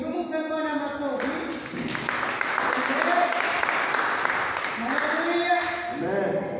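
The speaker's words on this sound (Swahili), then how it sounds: "Tumupe Bwana makofi." Applause from a church congregation at a Swahili-language service: a broad wash of clapping builds and continues under a preacher's voice.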